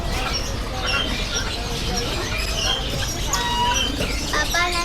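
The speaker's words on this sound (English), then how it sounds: "There's a lot of birds in here as well, guys." Dense chirping and tweeting from many caged birds at a bird market in Denpasar, busy and overlapping throughout, with occasional clucking and a crowded, lively background.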